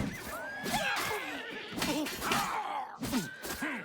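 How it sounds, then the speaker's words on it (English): A horse in the game Oblivion Remastered neighs and whinnies repeatedly, loud and close, with high wavering calls over scattered hoof clops and combat-like noise in a foggy outdoor area. "Don't you dare kill my horse."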